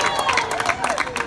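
A crowd at a university rally at Governors State University claps and cheers for the Student Senate President, with lively applause and voices mixed together in a short, busy burst.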